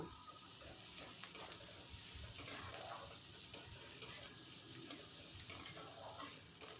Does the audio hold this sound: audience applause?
no